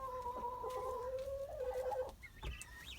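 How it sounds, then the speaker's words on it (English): Chickens and a rooster inside a snowy-weather chicken coop, giving close, continuous clucking and warbling calls that end in a higher-pitched squawk, with no talking. "They don't want to leave the chicken coop because they're afraid of snow."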